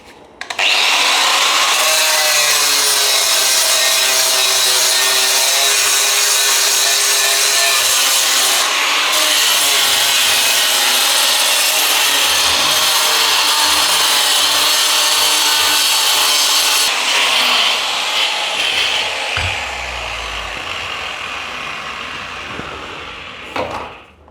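Electric grinder cutting bathroom tiles, a loud continuous harsh grinding whine with abrasive rubbing that runs almost the whole time and tapers off near the end.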